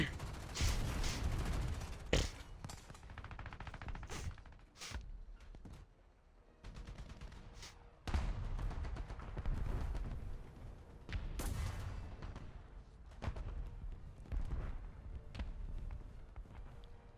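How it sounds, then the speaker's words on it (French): Gunfire in the video game War Thunder: repeated bursts of shots and heavy blasts over a continuous rumbling battle din, loud and dense, with brief lulls between volleys. "Ah, je tire à l'aveugle."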